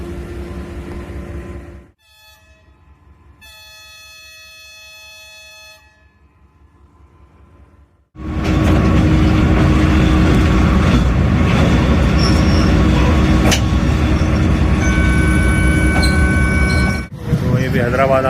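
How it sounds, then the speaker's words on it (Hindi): A Pakistani passenger train at Nawabshah sounds its whistle, and a long tonal blast rings out over quiet. Then the train moves off with a loud, steady roar of wheels and rumbling carriages, nearby. "तो मजबूरन फिर हमने स्टार्टिंग विसल लगाया और फिर चल पड़े हम।"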